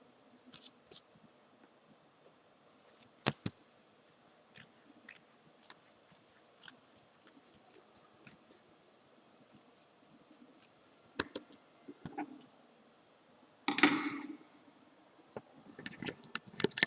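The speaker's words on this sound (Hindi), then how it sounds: "उसको हमको क्या करना है, कैंची से काटना है, ताकि यह गंदा न दिखाई दे" Scissors cutting paper to trim off the excess edge, quiet intermittent snips and crisp rustles with a few louder crunching cuts near the end, close by.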